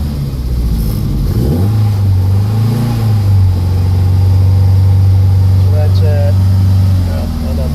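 A car engine revs up and holds a steady raised pitch for several seconds before easing off, loud and close, with a voice briefly audible.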